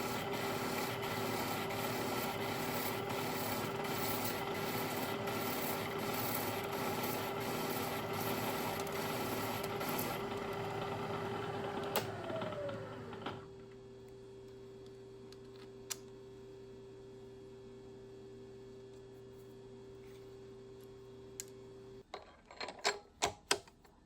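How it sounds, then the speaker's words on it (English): A small steel block being machined in a workshop, a steady mechanical hum with a dense rapid ticking chatter that cuts off midway, leaving a lower motor drone and then scattered clanks and knocks near the end. "So I'm machining up this little block here that I can mount to the side of the wheel guard"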